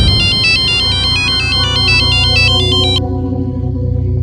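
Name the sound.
phone ringtone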